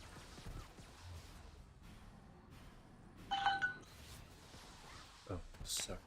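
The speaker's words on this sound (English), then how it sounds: "Yeah, that was my phone." A mobile phone notification chimes briefly near the middle, a short pair of tonal beeps heard under ongoing game narration and talk.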